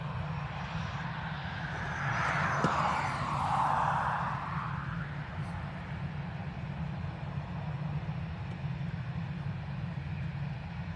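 An ATR turboprop airliner taxis slowly at Dublin Airport, its engines giving a steady, fairly loud drone with a rising and falling whine around the midpoint as it passes, continuous throughout with no talking.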